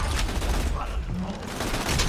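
Dense, rapid gunfire from a crazy gun in the shooter video game Borderlands 2, a continuous loud barrage of shots filling the whole stretch, with someone talking faintly underneath.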